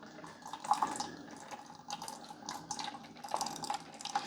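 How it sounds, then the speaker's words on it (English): Fresh water runs and trickles steadily through a Mr. Coffee single-serve hot and iced coffee maker during a rinse cycle after vinegar descaling, with faint drips and gurgles throughout. "we fill it up to the 16-ounce mark with just fresh water and run it through the machine."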